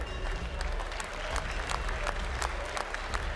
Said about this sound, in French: Je pense qu'on peut applaudir les éleveurs pour leur travail de sélection